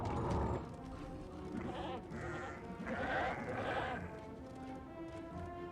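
Goat bleats from the Heroes of the Storm video game, several wavering nasal cries in quick succession over a busy game soundscape, with a caster voice talking underneath.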